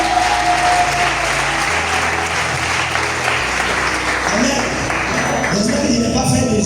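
A church congregation applauds during a worship service, with loud, steady clapping running the whole time over a low musical backing.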